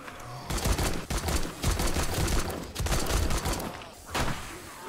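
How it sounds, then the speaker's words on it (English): Sustained machine gun fire in the zombie survival game 7 Days To Die, long loud close bursts of rapid shots with brief pauses between them, dense and heavy throughout. "One more mag for the machine gun."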